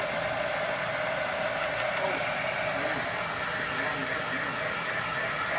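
Hair dryer blowing steadily to dry wet paint on a mailbox, a constant whooshing hiss with a low motor hum that runs unchanged throughout at moderate volume.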